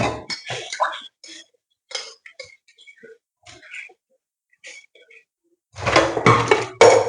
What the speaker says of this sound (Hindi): चलो कर लेते हैं सफाई बर्तन साफ